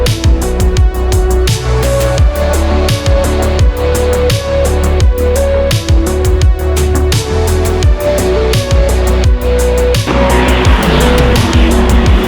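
Lamera Cup race car lapping the Magny-Cours circuit, engine loud and close with rapid rising and falling revs through gear changes, ending in a burst of squealing tires.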